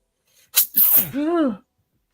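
A single sharp sneeze with a quick breathy intake, then a voiced, drawn-out tail, close and loud against a quiet background.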